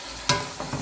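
Beef and broth mix are stirred in a hot pan, giving a sharp scrape and sizzle burst followed by two softer stirring scrapes in a brief, close moment.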